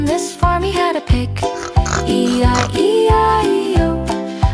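Sung pig oinks from a children's farm nursery rhyme, a voice imitating the animal in a bouncy repeated rhythm over steady, loud musical accompaniment.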